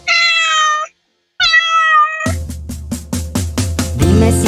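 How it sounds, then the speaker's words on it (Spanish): Two clear, high cat meows ring out alone in a children's song, followed by a bouncy rhythmic music beat kicking in. "Dime si tú sabes cómo hace el gato"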